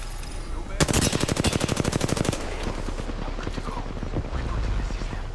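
Video game gunfire: a rapid, loud automatic burst of about a second and a half, evenly spaced shots close by, followed by quieter game ambience.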